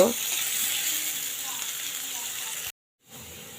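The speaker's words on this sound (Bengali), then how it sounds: "এটা আমি খুব সুন্দর করে ব্রাউন কালার করে ভেজে নেব" Dried chilies, garlic and chopped onion fry in oil with a steady, close hiss and a faint bubbling crackle, cut off briefly near the end and then resuming.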